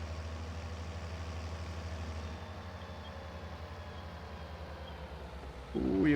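Steady low diesel drone of a farm tractor engine running under load with a heavy hopper at the back, continuous and fairly loud, with a brief surge in intensity near the end.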